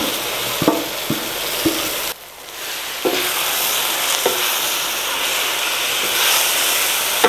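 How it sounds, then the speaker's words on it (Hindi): Marinated beef going into a hot pan with onions, a loud continuous sizzle and hiss with a few sharp clatters of stirring and a brief dip in the frying sound. "یہ میرینیٹڈ گوشت جو ہم نے میرینیٹ کر لیا تھا اب یہ اس کے اندر جائے گا"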